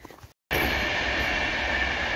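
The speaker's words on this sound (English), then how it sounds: "It's a train." A train rushes past during a snowy winter walk. It begins after a brief gap with a sudden loud roar of rolling wheels and rail noise, then holds close and steady until the end, with no one talking.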